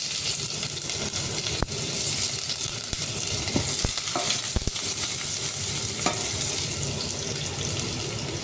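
Ginger and onions sizzle in a pan for Indian-style chicken curry, a constant hissing fry with stirring scrapes and a few sharp clinks, close and moderately loud with no talk.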